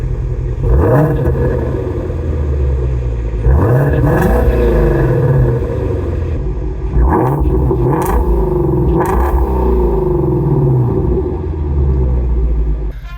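A sports car in loud exhaust mode revs hard four times in a row, each deep, rumbling blip rising and falling close by, with the engine idling loudly between pulls and no voices.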